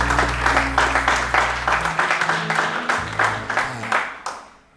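A congregation claps in a fast, steady rhythm during a Sunday morning church service praising God, with dense, loud applause filling the room throughout.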